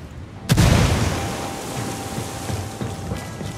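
A frag grenade in Ghost Recon Wildlands detonates with one loud, sudden boom, followed by a long rumbling decay with scattered debris patter and faint background crackle.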